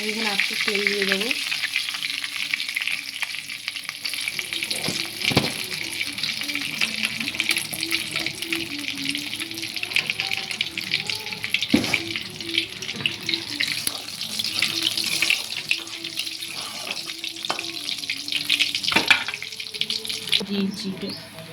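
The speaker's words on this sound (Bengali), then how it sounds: "শুকনো লঙ্কা আর জিরে দিয়ে কয়েক সেকেন্ড এটা ভাজা হয়ে গেলে" Dried red chillies and cumin seeds frying in oil in a pan used for a crab curry. There is a steady, close sizzle with stirring scrapes and a few sharp knocks throughout.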